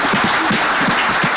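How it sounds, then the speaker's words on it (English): Audience applause for council candidates at a mayoral forum, a dense burst of many hands clapping, loud and close, filling the short moment without voices. "big round of applause for our council candidates"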